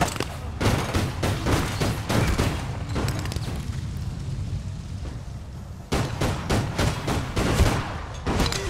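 Rapid gunfire in APB Reloaded as a van is shot at: dense bursts of close, punchy shots, a brief lull of quieter fire midway, then renewed sharp volleys.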